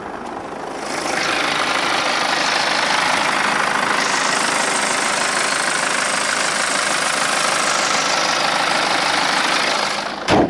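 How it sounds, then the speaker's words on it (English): A 2.0-litre BMW 320d Sport Touring diesel engine idles steadily with the bonnet open, a loud, even clatter held for about ten seconds before a brief knock at the end. "I'll let you have a listen to the engine."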